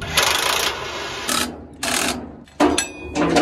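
Wrench torquing U-bolts on a trailer axle, a few bursts of rapid ratcheting and grinding clicks, close and loud with short pauses between.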